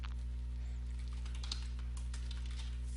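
Someone types a name on a computer keyboard, producing soft, scattered key clicks heard faintly over a loud, steady electrical hum.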